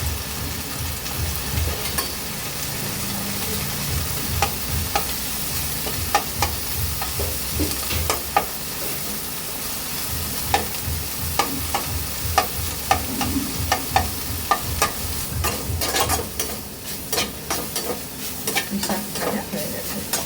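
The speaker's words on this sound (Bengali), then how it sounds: "শাক ভাজা হয়ে গেছে" Leafy greens frying in oil with two or three dried chillies and garlic in a pan, a constant sizzle broken by rapid rhythmic scraping strokes of stirring, close and fairly loud.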